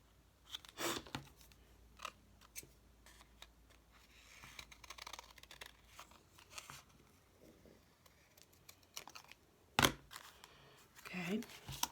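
Scissors snip through paper for a handmade journal, a few sharp close cuts spaced irregularly among soft handling rustles, with someone talking quietly in places.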